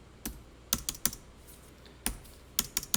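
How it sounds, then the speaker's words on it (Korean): Keys clack on a computer keyboard in a quiet room, in a few uneven bursts of sharp, close taps with pauses between them. "아 키보드 이거 쓰니까 편하고 좋네요"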